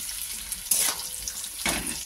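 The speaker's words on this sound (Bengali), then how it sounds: "তাই জন্য আলু ফুলকপিটা ভেজে নিলাম" Potato and cauliflower fry in a pan with a steady close sizzle, swelling twice as the pieces are stirred, with no talking.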